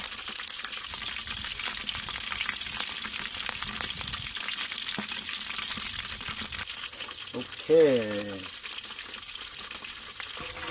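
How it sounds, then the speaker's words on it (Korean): Food frying in oil in a large cauldron, a continuous crackling sizzle with stirring clatter, while a voice briefly speaks partway through over the steady bubbling. "솔직히 이 정도면 잘 튀기고 있는 거 아니야?"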